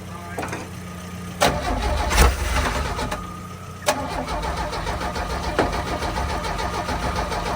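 A 1966 Chevrolet C10's engine cranks over with a few sharp bursts, then catches and keeps running with a rough, loud idle close by.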